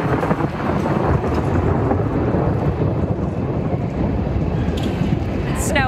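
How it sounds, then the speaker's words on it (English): Thunder snow during a historic lake-effect snowstorm in Hamburg, New York: a loud, sustained low rumble of thunder rolling continuously with blustery storm noise, fairly close and steady throughout. "Hamburg, New York, hearing those cracks of thunder"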